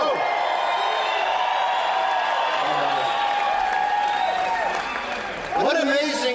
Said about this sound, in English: What an amazing crowd for 24-hour notice